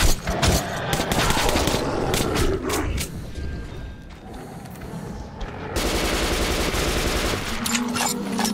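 Loud, rapid automatic gunfire from a weapon in Metro 2033 Redux rattles in sustained bursts with mechanical clanks, a short lull in the middle and then another long volley.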